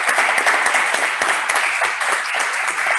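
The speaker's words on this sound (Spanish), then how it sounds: "Un aplauso para él." Applause rises from an audience at a Rotary gathering, brisk clapping with audible individual claps, steady and fairly close, no talking over it.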